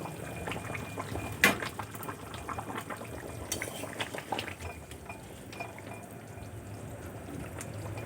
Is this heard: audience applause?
no